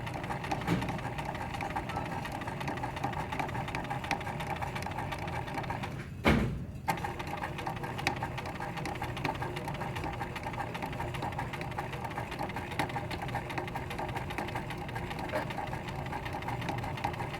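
A sewing machine runs steadily while stitching a teddy bear, a continuous close mechanical whir with a brief pause around the middle before it carries on.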